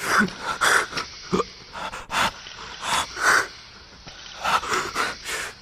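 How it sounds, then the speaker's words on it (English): Ragged, heavy gasping breaths, several sharp wheezing inhales and exhales in quick succession, close and loud with no voices. "Suddenly you gasp for breath."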